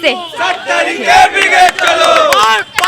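A large, dense crowd at a political rally on Brigade Parade Ground roars and chants loudly and continuously, with many overlapping shouting voices and a few brief dips.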